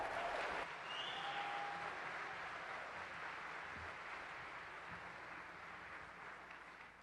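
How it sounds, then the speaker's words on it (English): Audience applause and cheering for the athletic director at a university president's welcome event, a faint, distant and steady clapping that slowly tapers, with no speech over it. "let's give a big cheer for your athletic director,"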